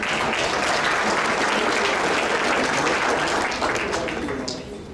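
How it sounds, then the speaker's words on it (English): An audience at a volunteer honours ceremony applauds for a volunteer, dense loud clapping that holds steady and then begins to thin and fade near the end. "Let's give a round of applause to Lori Leonard."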